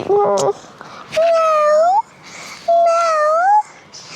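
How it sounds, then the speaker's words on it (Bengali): A white cat meows twice, long and drawn-out, close and loud, after a brief higher squeak at the start. "এই যে একটা সাদা বিড়াল"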